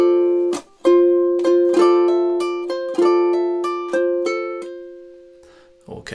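Ukulele strums a short chord passage from a song, measures 17 and 18, with crisp rhythmic strokes ringing clearly and alone before fading out.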